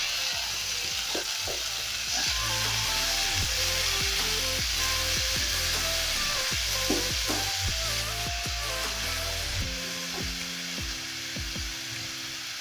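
Tomatoes fry in hot oil in a pan for a fish fillet stew, a loud, steady sizzle broken by stirring scrapes throughout.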